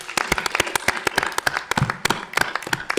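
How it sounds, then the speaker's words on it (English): Small committee meeting group giving a round of applause, a sparse cluster of distinct, close hand claps with uneven rhythm and no talking. "I want to first do a round of applause to my committee that worked so hard"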